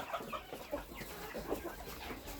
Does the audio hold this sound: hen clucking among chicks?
yes